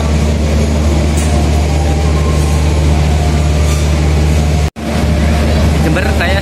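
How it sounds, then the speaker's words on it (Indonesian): Wijaya Kusuma passenger train at an Indonesian station, a loud steady low rumble of engine and rolling cars filling the scene, briefly cut near the end, with faint voices in the background. "Ini menunggu kedatangan kereta api Wijaya Kusuma ya dari Ketapang"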